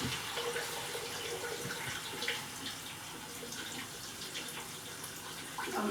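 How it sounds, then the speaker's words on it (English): Water running steadily from a tap into a dye pot, a continuous splashing pour at close range with no talking. "I'm adding enough water just to have part of the bottom in there"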